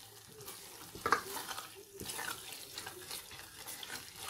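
Water is poured into a cooking pan of chickpea masala after frying, a soft splashing gush followed by faint bubbling and sizzling under a low background hum, with no speech.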